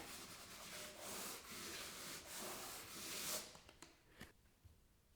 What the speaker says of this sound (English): all we're going to do is sand it like that on that mark.